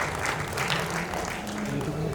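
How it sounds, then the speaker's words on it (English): A round of applause at a wedding reception, a dense wash of many hands clapping steadily through the whole short stretch, with a voice partly audible beneath it. "I want you to join in a round of applause for our dear Achan, Reverend Sanal P."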